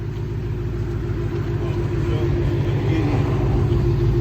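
A 1989 Jeep Grand Wagoneer with a swapped Chevy 5.3 V8 idles with a deep, steady, throbbing exhaust rumble, loud and close, alone without talk.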